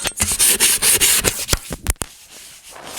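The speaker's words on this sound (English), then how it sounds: "Let's go ahead and just hit that with a little sandpaper" Sandpaper rubbed by hand over rusty metal brackets on a Midway Pac-Man Cabaret mini arcade cabinet, a run of quick, close, rasping back-and-forth strokes that trail off into a few lighter scrapes and near quiet.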